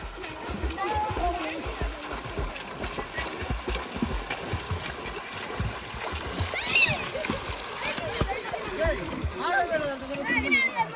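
Splashing of people swimming in a cold, shallow stream at Valparai, irregular splashes and water movement close by with children's and adults' voices chattering throughout.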